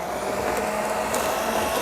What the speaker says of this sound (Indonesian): Lalu kita mixer kurang lebih 5-7 menit.